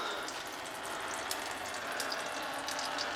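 Fluid pouring out of a Chevrolet Caprice after the driveshaft is pulled, a steady faint splashing trickle like a running tap, continuous with no talking.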